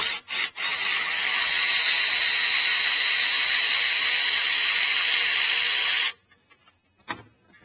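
A ratchet loosens a 13 mm alternator bolt on a Ford F350 7.3L, a steady, close rapid clicking that runs for about six seconds after two brief bursts, then stops into near silence with one faint knock.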